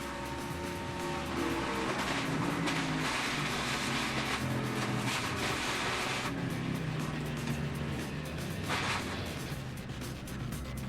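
Onboard audio from David Reagan's NASCAR stock car caught in a multi-car wreck at Talladega, a dense, roaring engine and wind rush with crunching, banging impacts, loud and continuous throughout.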